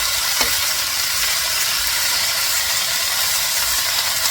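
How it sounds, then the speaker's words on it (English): Steady, dense sizzling and hissing from chicken stir-frying in a hot pan, continuous and fairly loud with no voices. "stir frying the chicken 30 to 40 seconds"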